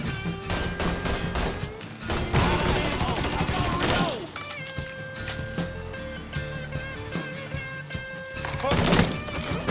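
Gunfire in the Mafia 3 video game, sharp shots and crashing impacts bursting in clusters through a dense, loud mix of music and game sound, under voices talking.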